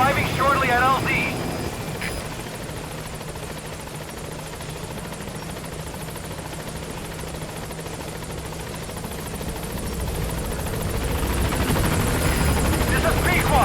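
Helicopter rotor and engine noise from Metal Gear Solid V gameplay as the support chopper arrives at a landing zone, a steady loud whir that swells toward the end, with game radio voices over it.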